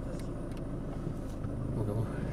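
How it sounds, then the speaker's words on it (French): A 2006 Mercedes C200 W203 rolls along during a low-speed brake test after rear pad replacement, a steady close engine and road rumble with a voice speaking faintly over it. "je fais des petits essais de frein"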